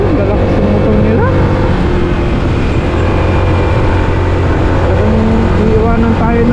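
Motorcycles of a large Filipino riders club ride on a road in Taiwan, a loud, steady engine drone filling the whole stretch with voices mixed in.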